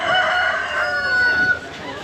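A fighting rooster crows loudly and close by on Samsen Road in Bangkok, Thailand, one long drawn-out call that fills the whole moment, with a second bird faintly audible behind it.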